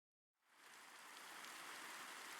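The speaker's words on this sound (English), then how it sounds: "it starts raining, of course it does" Steady rain falls in a farming video game, starting from silence and quickly swelling into a loud, continuous broadband hiss that holds evenly to the end with no voices.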